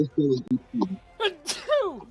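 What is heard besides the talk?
sneeze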